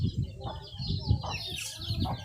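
Chickens cluck in quick, repeated bursts close by, with a few higher squawks mixed in.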